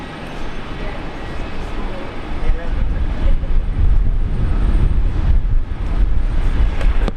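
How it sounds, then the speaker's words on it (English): An Alliance Airlines Fokker airliner arriving at Brisbane Airport, its steady, loud engine roar filling the scene and swelling slightly midway through, with low rumble and a voice talking over the noise. "Look at our first Fokker arrival."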